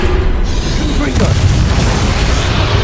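Confringo fire-blast spell from the game Hogwarts Legacy, a loud booming explosion with a rumbling low-end tail, set over continuous dense game noise while a voice shouts spell names.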